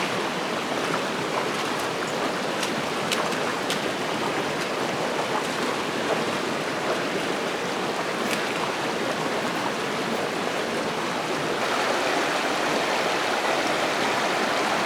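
A river in Montana's Bitterroot backcountry rushes steadily nearby, a dense, unbroken wash of flowing water that stays loud and even throughout, with no voices.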